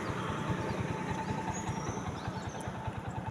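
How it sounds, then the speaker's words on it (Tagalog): A vehicle engine idles and runs steadily on a road trip toward Tandag City, with a low, even pulsing rumble that stays close and continuous throughout, alongside faint high insect or bird chirps. "Tunog ng sasakyan ng makina."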